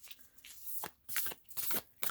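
A deck of oracle cards is side-shuffled by hand, giving several quick, crisp riffling bursts close to the microphone with short pauses between them.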